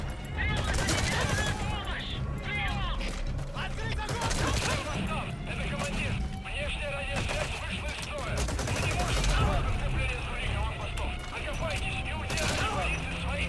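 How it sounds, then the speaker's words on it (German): Sustained gunfire in Metal Gear Solid V: The Phantom Pain, rapid automatic bursts and repeated shots rattling continuously for over ten seconds at steady loudness, layered with game effects and a voice talking over the shooting. "Schieß, Snake, schieß."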